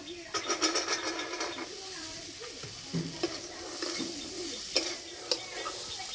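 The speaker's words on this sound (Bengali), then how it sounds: "এবার সিদ্ধ করে রাখা ছোলা দিয়ে দেব" Boiled chickpeas being stirred into a frying spice mixture in a pan, giving a soft steady sizzle with clinks and scrapes from the spoon, faint and close, with a voice briefly heard in the background.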